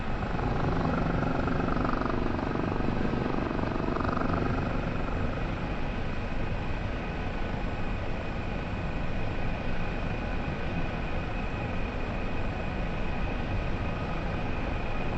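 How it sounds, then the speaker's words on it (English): A Kiowa helicopter hover-taxiing in the DCS flight simulator gives a steady, loud rotor and turbine drone with a continuous whine, unbroken throughout, with no talking. "Just doing a little hover taxi."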